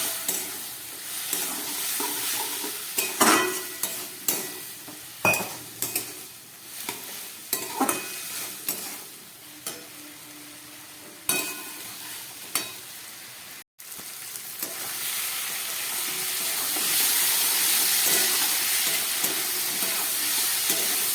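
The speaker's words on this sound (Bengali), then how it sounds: "গুঁড়ো মশলা দিয়েছি, ওই জন্য সামান্য একটু জল দিয়ে দিলাম, যাতে মশলাটা ভালো করে কষানো যায়" Ground spices with a splash of water sizzle and fry in a pan for a prawn and kudri curry, with repeated sharp stirring scrapes over a steady hiss that builds louder toward the end.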